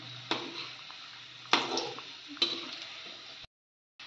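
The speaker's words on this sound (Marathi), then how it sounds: "व्यवस्थित एकदम शांततेत तळायचे आहे आपले रोल." Potato samosa rolls deep frying in oil, a soft continuous bubbling sizzle broken by a few sharp clicks and knocks from turning them, before the sound cuts out.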